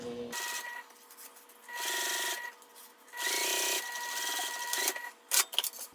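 Sewing machine top stitching a fabric travel pouch, running in several bursts of steady whirring with short pauses between, close and alone, ending in a few quick clicks.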